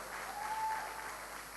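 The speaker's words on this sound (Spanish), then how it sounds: "Mire, así, aplaudir." A church congregation applauds during a harvest celebration service, producing a brief, steady wash of clapping at moderate volume with no break.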